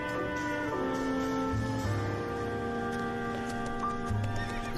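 Horse neighing in the L.A. Noire video game, a whinny over a steady, tonal background.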